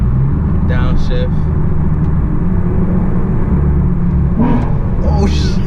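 A car fitted with a Pedal Commander throttle controller, driven in Sport Plus mode, rumbles loudly and continuously after a downshift, its deep engine drone dominating the whole stretch with a voice briefly heard over it.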